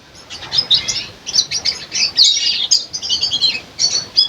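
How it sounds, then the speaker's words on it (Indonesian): A pair of red siskins, a red male and a female, kept at a bird farm for breeding, chirp and tweet busily up close in bright, rapid bursts with no talking. "sini kita mulai dengan cara menjodohkan burung siskin ya. Di sini udah ada 2 burung."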